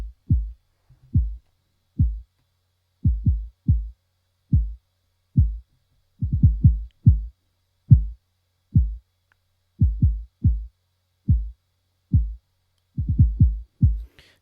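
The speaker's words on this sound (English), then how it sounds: "We'll get a listen to this kick drum and, you know, see how much punch we can get when I boost it just a little bit." Kick drum with an EQ boost around 150 Hz, playing a steady pattern of deep, punchy thumps, singles and quick doubles, heard alone and fairly close.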